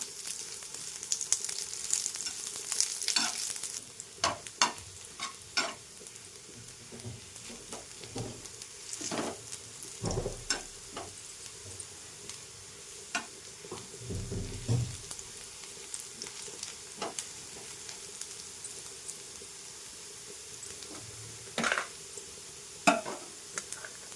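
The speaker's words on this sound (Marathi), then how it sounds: "खसखस खोबरे आणि कोथिंबीर छानपैकी आहे ते आपण भाजून घेणार आहोत" Poppy seeds, grated coconut and coriander dry roasting in a pan for a Maharashtrian katachi amti, giving soft scraping stirs and light crackles with occasional louder clicks, close by, with no talk.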